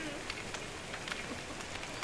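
Steady rain falling in the video game Don't Starve: Hamlet, a quiet, even hiss of patter with faint scattered drop ticks throughout.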